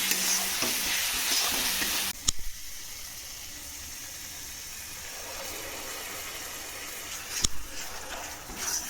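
Masala spices fry in oil for a Bengali dahi katla curry, giving a loud close sizzle that drops to a softer steady hiss, marked by a few sharp clatters of stirring.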